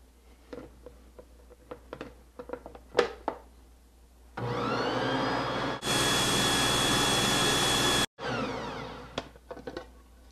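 Electric mixer whirring through brown rice flour tortilla dough, a steady loud motor drone that starts after some scattered knocks, steps up to a higher speed, cuts out briefly and then runs on at a lower level.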